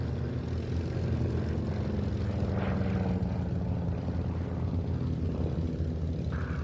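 A Curtiss P-36 propeller fighter flies at an evening air show at Duxford, a steady, fairly loud engine roar that holds evenly throughout with no voices.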